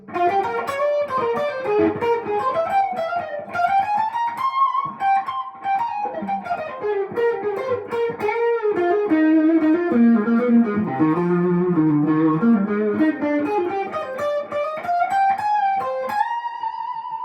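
A Collings I-35 LC or I-30 LC electric guitar on its middle pickup, with mild overdrive, plays a flowing melodic lead, notes sliding and bending over sustained tones, warm and steady.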